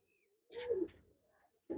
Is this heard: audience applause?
no